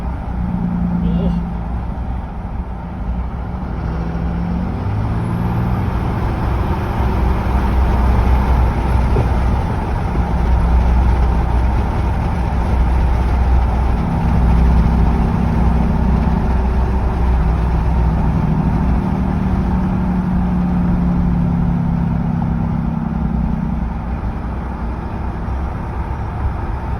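Car engine fitted with a new cold air intake, heard from inside while driving in traffic with a window open: a continuous low rumble and road drone, loud and steady, under intermittent talking.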